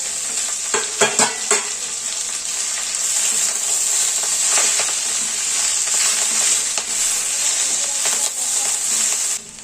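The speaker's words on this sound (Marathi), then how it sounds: "थोडासा लसूण टाकून आपल्याला ती छान परतून घ्यायची तुपावरती" Chopped fenugreek leaves and garlic sauté in ghee in a pan, a steady close sizzle and hiss with a few sharp scraping stirs near the start and occasional spoon clatter later.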